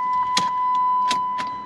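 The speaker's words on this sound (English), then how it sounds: "Let us attempt to starting the engine." A 2002 PT Cruiser, non-turbo, fails to crank at the turn of the key in a parking lot. A few short, sharp clicks sound over a steady electronic warning tone, with no engine turning over.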